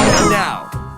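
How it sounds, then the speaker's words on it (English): A bell struck with a medium hammer in the Cat in the Hat arcade game rings out as one loud, bright ding that decays over about half a second, followed by a short softer chime. "Now, let's try to hit the bell with the medium hammer."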